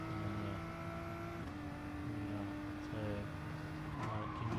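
Race car sliding through oversteer in a GT endurance racing game, sustained engine drone with shifting pitch and a squealing tyre tone as the car steps out and is caught, steady and loud throughout.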